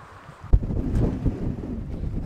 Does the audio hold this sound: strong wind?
yes